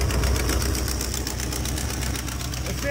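A 1970 Dodge Charger with a freshly installed Accel distributor idles a little high, a steady rough engine drone with a faint pulsing beat and no talk over it.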